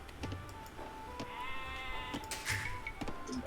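Sheep in the Age of Empires II video game give a couple of clear, wavering bleats, ringing out over game sounds and clicks.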